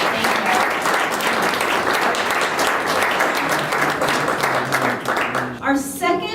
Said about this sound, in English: So they definitely deserve a round of applause.